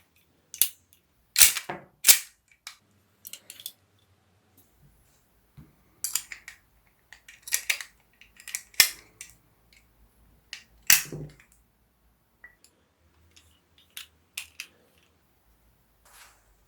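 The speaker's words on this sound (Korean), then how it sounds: "그리고 장전 손잡이를 당기면 탄이 배출됩니다." Charging handle racked repeatedly on a half-scale full-metal miniature AK-47 model gun, ejecting a dummy round: sharp, close metallic clacks and snaps in irregular bursts with quiet pauses between, no talk.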